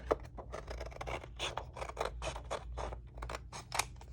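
Scissors snipping paper for a journal spread, a quick run of crisp, close cuts in an uneven rhythm, each snip sharp and distinct against a quiet background.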